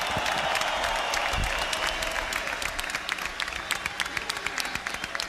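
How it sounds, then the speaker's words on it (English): Audience applause rings out after a boxing match, a steady wash of many hands clapping at moderate volume that continues throughout, with a few sharper individual claps near the end. "Let's give both fighters a round of applause."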